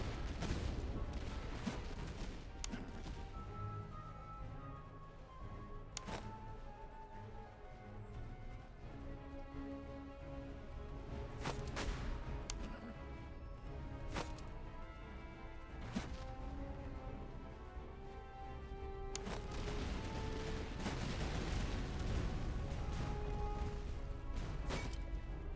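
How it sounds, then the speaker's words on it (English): Massed musket volleys from British line infantry in the Master of Command game, as repeated sharp cracks and crashing bursts over a dense battle soundscape with a steady background din, loudest near the end. "Those German Fusiliers are about to catch heat in a minute here when these British foot fire."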